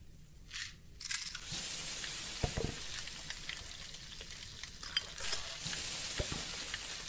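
Mustard and cumin seeds sizzle and crackle in a hot pan in the Venba cooking game, a steady frying hiss with scattered sharp pops and stirring scrapes, close and alone.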